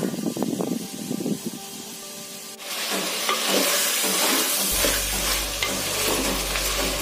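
Vegetables for sambar sauté in a pan, a quiet stir and faint sizzle at first, then a loud, steady frying hiss with scraping stirs that carries on to the end.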